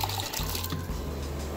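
Soda water pours from a dispenser in a hotel club lounge, a brief steady gush of liquid heard up close.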